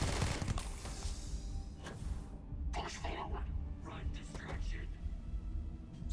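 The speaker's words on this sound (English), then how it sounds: "Shooting at me is very rude." Enemy gunfire in the sci-fi space game Starfield comes as a few quiet, sharp bursts of shots spread across the stretch, set against low, murky game ambience.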